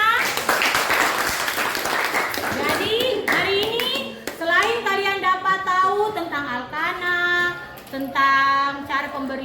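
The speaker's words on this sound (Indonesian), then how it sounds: "tepuk tangan untuk temannya" Schoolchildren in a classroom applaud a classmate, a brief burst of hand clapping at the start that gives way to children's voices and chatter through the rest.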